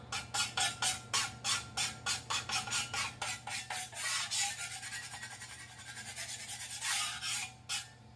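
Leftover bits of buttermilk biscuit dough being scraped off with a scraper: a quick run of rhythmic, rasping strokes close by, evenly paced at first and then smearing into longer drags, with no talking.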